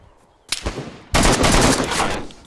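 Gunfire in DayZ Standalone: a short burst of shots followed by a sustained, loud automatic volley, close and dominant with no talking.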